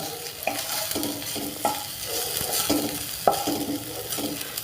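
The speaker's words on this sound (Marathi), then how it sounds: "अर्धा टीस्पून किसलेलं आलं यालाही थोडं परतून घेऊयात" Grated ginger sautés in a pan with garlic for a vegetable ragi soup, a soft steady sizzle punctuated by several sharp scrapes and clinks of a spoon stirring against the pan, close and without speech.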